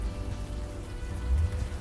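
Steady rain falls on a night street in the video game Unavowed, a dense, even hiss with low rumbling underneath, with no speech.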